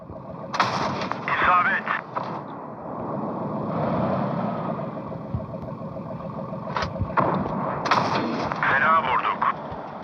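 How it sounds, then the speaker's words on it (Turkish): Tank cannons fire in World of Tanks, two loud booming shots a few seconds apart over a steady engine rumble, with a voice speaking in between. "Bunun gibi bir atış daha işlerini bitirir."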